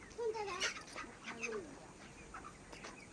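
Broiler chickens on a poultry farm, about 32 days old, give scattered faint clucks and squawks nearby, with a soft voice briefly among them.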